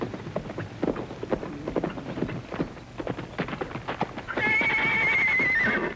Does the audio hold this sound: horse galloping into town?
yes